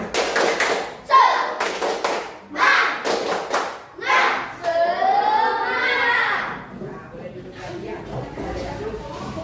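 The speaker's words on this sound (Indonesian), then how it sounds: "Kita tepuk semangat sekali lagi ya." Schoolchildren in an Indonesian classroom clap together in a rhythmic patterned cheer, bursts of sharp claps alternating with group chanting voices, close and lively.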